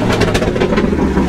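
A car fitted with a homemade exhaust rumbles loud and close with a continuous raspy engine note, heard alone in one brief sustained burst.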